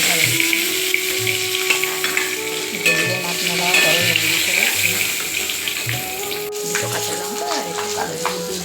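Prawns frying lightly in a pan give a steady close sizzle with stirring, while a voice talks over it and a tonal background hum runs throughout.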